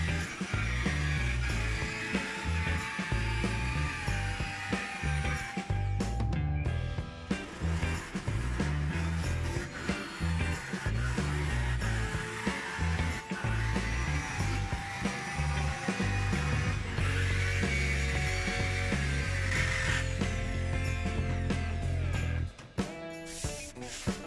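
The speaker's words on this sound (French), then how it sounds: "J'ai découpé cette plaque à la scie sauteuse." A jigsaw buzzes through a white polystyrene board, a close, continuous rattling drone with rapid reciprocating chatter, briefly pausing and restarting a few times before cutting out near the end.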